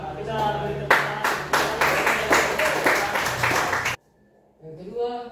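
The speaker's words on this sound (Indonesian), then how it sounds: "kita beri tepuk tangan" Group clapping in a classroom during a Catholic religious education teaching session: dense, steady applause for about four seconds, then it stops abruptly and voices follow.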